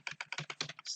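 Rapid keystrokes on a computer keyboard while a code comment about linear regression is typed in Python, about a dozen crisp clicks in quick uneven bursts, close and clear with no talk.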